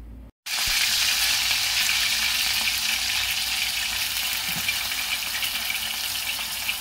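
Potato pieces soaked in salted water hit hot oil in a pan and fry with a loud, steady hiss and crackle that starts suddenly after a brief pause and continues alone throughout.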